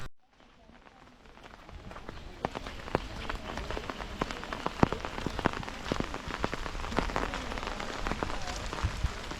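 Heavy rain pours steadily over a village road beside green paddy fields, a dense hiss of drops with sharp pattering taps close by, building slightly after the first seconds and continuing unbroken.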